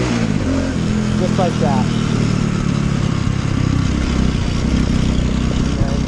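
A semi-automatic motorcycle leaning into a corner while shifting down from third to second gear, its engine droning steadily and loudly throughout beneath a man's speech.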